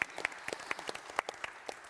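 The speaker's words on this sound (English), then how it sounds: "Let's give him a round of applause for that." A short round of applause from a conference room audience at a soil health and food security session, with distinct individual claps standing out in an uneven, sparse rhythm.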